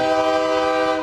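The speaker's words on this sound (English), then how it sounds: "Man, trains are going by." A passing train sounds a loud, sustained, multi-tone horn at close range, steady and rich for its whole brief duration.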